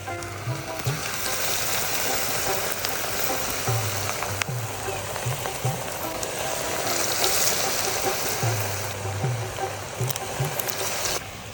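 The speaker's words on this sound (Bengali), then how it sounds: "তেলে যখন পেঁয়াজি ছাড়বেন একটু সাবধানে ছাড়বেন" Onion fritters, piyaji, sizzle in hot oil with a steady bubbling hiss throughout, joined by occasional soft pops and clinks and faint background voices.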